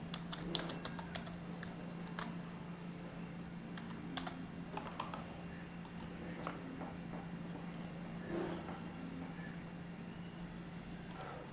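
Quiet, irregular keystrokes tap on a computer keyboard as a password is entered, scattered light clicks over a low steady background hum.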